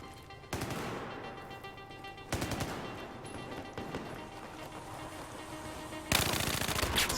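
Video game gunfire crackles in bursts of rapid automatic shots, with several sharp volleys separated by quieter stretches and a final sustained burst.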